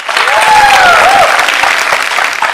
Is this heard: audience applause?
yes